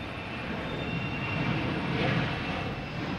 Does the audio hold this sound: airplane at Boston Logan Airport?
yes